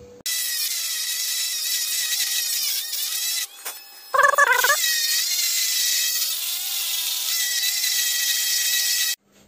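Small high-speed rotary power tool grinding and finishing the transfer ports of a Peugeot 101 moped cylinder, a steady whining drone that dips briefly, drops out, then resumes with a harsher bite before stopping.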